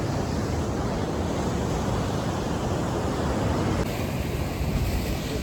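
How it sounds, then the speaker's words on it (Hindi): Ocean waves at the seashore in Visakhapatnam: a steady, loud wash of surf and rushing water with wind buffeting the microphone, continuous and unbroken throughout. "लहरें ही लहरें विशाखापट्टनम में समुद्र के किनारे"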